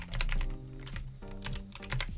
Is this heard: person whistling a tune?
no